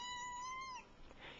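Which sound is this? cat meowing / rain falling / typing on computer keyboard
cat meowing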